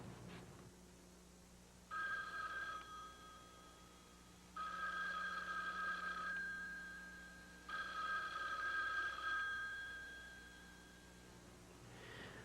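A telephone rings repeatedly and goes unanswered in a 1980s soap opera scene, three long electronic ring bursts spaced by pauses over a low steady hum, with no voices.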